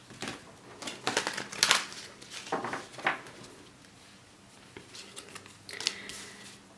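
Fairy Oracle tarot cards being shuffled by hand in bursts of soft riffling and papery slaps, close and moderately quiet, with no talking.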